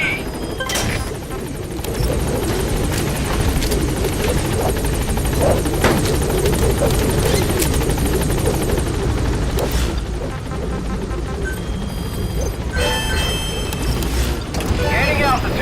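Rotor thrum of the Pequod helicopter in Metal Gear Solid V: The Phantom Pain, a steady loud whirring drone that fills the scene throughout, with brief bursts and clatter layered over it and speech mixed in.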